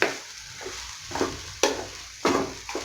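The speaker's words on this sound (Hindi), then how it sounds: "अब इसके साथ ये अंडा जो है फ्राई होगा" Eggs and carrot fry together in a pan for a South Indian-style scrambled bhurji, with repeated scraping stir strokes punctuating a low sizzle at a close, moderately loud level.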